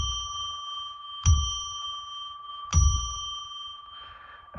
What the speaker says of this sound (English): I'm going to ring a bell now to declare a sacred space